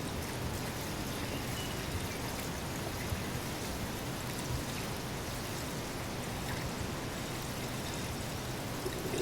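Water pours steadily into a 15-liter rechargeable sprayer tank, a continuous splashing rush at even loudness from start to finish.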